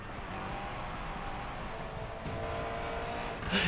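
Engine roar of a Volkswagen Golf giving chase in Need for Speed Payback, a steady loud racing-car drone throughout that swells near the end with a brief rise like tire noise.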